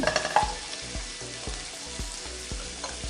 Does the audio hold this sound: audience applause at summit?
no